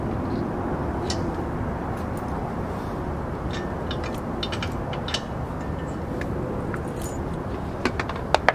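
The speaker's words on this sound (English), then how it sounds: "we've got to take out the chock lock, the coupler lock" A trailer coupler lock is unlocked, with scattered metallic clicks, jingles and ratcheting taps close by over a steady low background rumble. No one talks.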